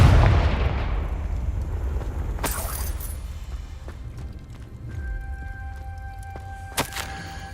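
A Confringo blasting spell explodes in Hogwarts Legacy: a loud, booming burst at the start rolls into a long rumbling tail, followed by sharper cracks and debris impacts, with a brief electronic tone near the end.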